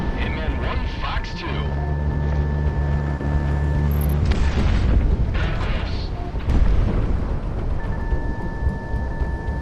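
Aircraft cannon fire from the Project Wingman flight game rattles in rapid bursts against a loud, steady jet engine roar, with a deep booming impact near the middle of the stretch.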